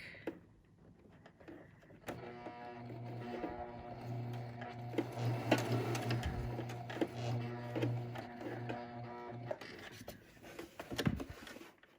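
A sewing machine stitches a fabric filter-pocket face mask, its motor whirring in one long steady run that starts after a quiet moment and stops near the end, with small clicks and fabric handling around it.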